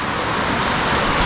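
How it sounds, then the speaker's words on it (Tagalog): Heavy rain pours down in a steady, dense roar under a very dark sky, filling the air with continuous broadband hiss and no pauses. "bumuhos na ang malakas na ulan"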